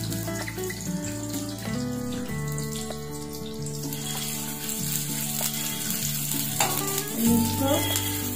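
Onion frying in hot oil in a home kitchen, a steady, dense sizzle with stirring scrapes, joined by a low tonal hum and rising briefly louder near the end; no one speaks.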